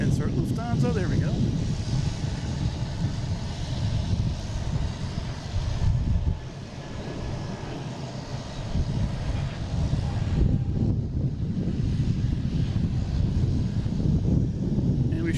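Lufthansa airliner at Boston Logan, loud rumbling jet engine roar with wind noise, rising and dipping over several seconds while a person talks over it.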